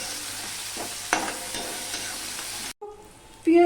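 Grated onion fries and hisses in a pan while being stirred, with scraping strokes under the steady sizzle, a brief dropout near the end, then a louder clatter.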